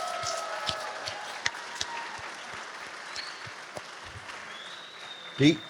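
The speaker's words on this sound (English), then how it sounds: "Can we give them all a round of applause?" Applause from a convention audience at a comics expo awards ceremony, thanking sponsors: a steady, fairly faint wash of clapping across the hall with a few sharper claps, ending on a louder burst.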